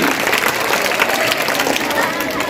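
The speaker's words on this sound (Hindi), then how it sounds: "आपकी पुरजोर तालियां तो बजाइए कम से कम" A school annual function audience claps in a dense, sustained round of applause that fills the hall evenly for the whole moment, with faint crowd murmur underneath.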